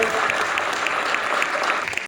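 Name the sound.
audience applause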